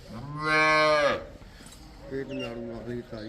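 A Jersey cross cow lets out a loud, drawn-out moo, followed by a shorter, softer lowing call nearby.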